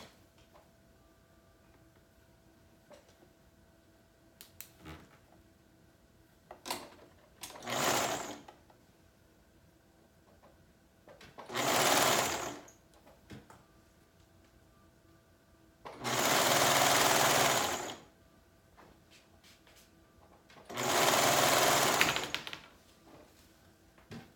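A sewing machine stitches the side seams of a dress in four separate runs, each a steady whirring buzz lasting one to two seconds, with quiet fabric handling and small clicks in between.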